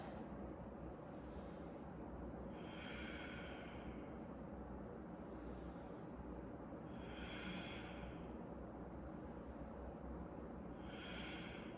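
Slow, deep breaths during a yoga forward fold with chest and head hanging down, each long airy exhale rising and fading about every four seconds over a steady low hum, close and quiet.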